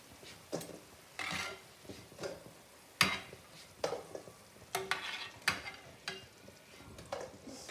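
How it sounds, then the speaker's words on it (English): Sweets frying for Diwali in a pan, heard as quiet sizzling broken by irregular stirring scrapes and light clinks of the utensil against the pan, close and alone. "so I'll continue fry it"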